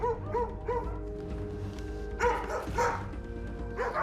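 A dog barks inside a house in Kryvyi Rih in winter, the barks rapid and clear, a quick burst at the start and another cluster after a pause, muffled as if heard from outside.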